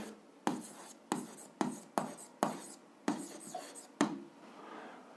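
Pen or chalk writing an algebra expression, seven distinct scratching strokes in a steady rhythm, close and fairly quiet, with no clear speech.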